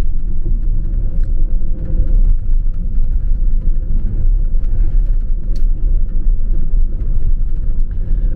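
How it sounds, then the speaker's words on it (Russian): Inside a Mercedes Vito van on a rough, broken road, a heavy low rumble with constant rattling and clattering of loose panels, close and steady throughout. "Все дребезжит здесь в этой машине"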